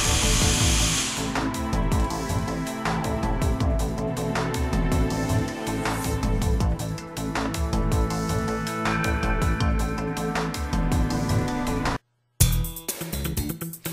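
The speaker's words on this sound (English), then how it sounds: "Solid carbide 3-point bits carve through the surface of the workpiece, leaving no chip out" A GANNOMAT Vantage 152 dual 76-spindle CNC line boring machine drives solid carbide 3-point bits into coated panels, giving a loud, steady machine roar broken by repeated sharp drilling bursts. It cuts out abruptly near the end and then resumes.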